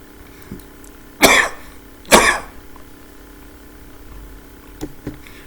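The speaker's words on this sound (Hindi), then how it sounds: "सॉरी, मुझे खांसी लगी हुई है।" Two loud, harsh coughs about a second apart, close to the mic, followed by faint clicks and a quiet background hum.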